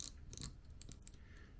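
A budget fly fishing reel part being unscrewed by hand, giving faint, irregular gritty crunches and small clicks close up, with no talk.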